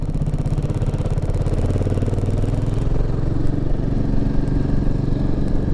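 A Royal Enfield Himalayan 450 motorcycle engine idling loudly up close, a steady rumbling chug with mechanical clatter throughout.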